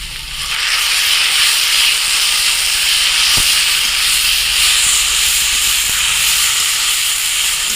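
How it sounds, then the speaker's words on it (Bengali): Chopped drumstick (sajna) leaves hit hot oil with fried onion and chilli in a frying pan, giving a loud, steady hiss that holds for several seconds with a brief clatter partway through. "এখন সাজনা শাকটা আমি কেটে রেখেছি এটা দিয়ে দিব"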